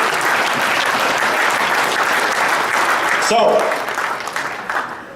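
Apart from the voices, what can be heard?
audience applause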